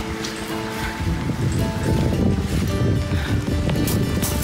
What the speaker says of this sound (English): Beach.